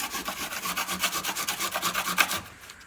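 Moistened clay plaster is scraped off a village house wall with a spatula in a steady series of rhythmic rasping strokes, close and fairly loud, with no voices.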